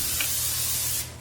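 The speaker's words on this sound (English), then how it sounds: "I'm going to spray and hope that this top doesn't fly off again." Cooking spray from an aerosol can misted into an oven-safe bowl, a single close, steady hiss lasting about a second before it cuts off.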